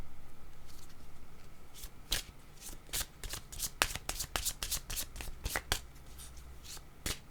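Playing cards being shuffled close up, a quick run of sharp riffling snaps and flicks over a few seconds, with faint low background hum.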